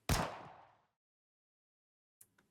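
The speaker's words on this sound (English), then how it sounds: "There's the sound of a single gunshot." A single loud gunshot rings out in the game Goddess of Victory: Nikke, a sharp close blast with a decaying echo, followed by silence and two faint metallic clinks like a shell case hitting the floor.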